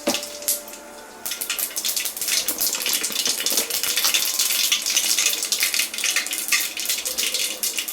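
Mustard seeds spluttering in hot oil for mint rice, a loud, dense sizzling crackle with rapid pops that starts after a brief quieter moment and keeps going close up.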